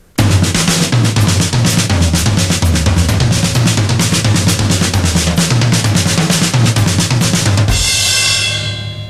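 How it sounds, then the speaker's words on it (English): Rapid, dense drumming with accented hits moving across the toms, a continuous loud roll of strokes ending on a ringing cymbal crash. "let's just take the accents and place them around the toms to create other rhythms."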